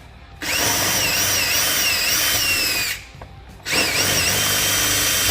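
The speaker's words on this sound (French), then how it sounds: "Ensuite, je prends la mèche 17/4 et on repasse les trous." A power drill fitted with a 17/4 bit re-drills holes, making a steady, loud, high whine for about two and a half seconds. It stops briefly, then starts again, with no talking.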